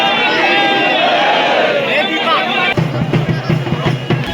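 Large crowd of devotees at Nirai Mata temple in Gariyaband, Chhattisgarh, a dense roaring babble of many voices close around, shifting to footsteps and closer chatter partway through.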